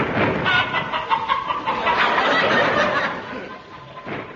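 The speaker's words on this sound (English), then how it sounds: "The sound of chickens has specially been added for people living in rural districts" Chickens cluck and squawk loudly as an added comic sound effect, a busy, overlapping barnyard chorus that carries on throughout and eases slightly toward the end.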